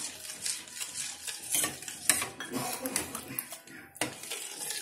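Milk powder being stirred into simmering coconut rabdi, close rhythmic scraping and clinking of a spoon against the pot over a soft bubbling sizzle, with a voice talking faintly in between.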